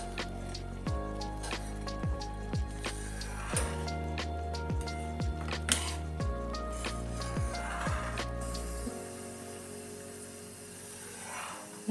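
Cream simmering over low heat into ghee, with repeated soft popping bubbles and a rhythmic plopping that goes on for several seconds before settling into a gentle hiss.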